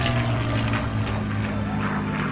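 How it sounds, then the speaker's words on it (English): A North American P-51D Mustang propeller fighter passes by with a loud, continuous engine and propeller roar that wavers slightly in pitch, and no voices are heard. "From the left, the P-51D Mustang."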